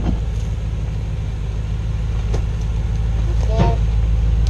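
A Jeep crawls slowly through an offroad park in four-wheel drive. Its engine rumbles low and steady at close range while people talk nearby.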